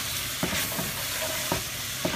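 Browning meat with curry powder and ground cinnamon sizzles in a pan under a steady frying hiss, while a utensil makes three slow, separate scraping strokes through it.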